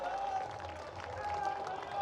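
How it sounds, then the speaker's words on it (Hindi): A crowd at a BJP political rally in Balod claps to greet a candidate, with continuous dense applause mixed with crowd murmur and a faint background tone throughout. "एक बार जोरदार तालियों की गड़गड़ाहट से देवलाल ठाकुर जी का भी अभिवादन कीजिए"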